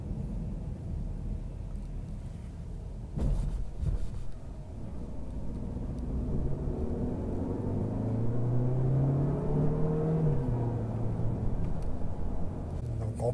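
A Citroën C5 Aircross SUV picks up speed on a Paris road, its engine a low, fairly quiet rumble whose pitch climbs steadily and then drops back as it shifts, after a brief knock near the start.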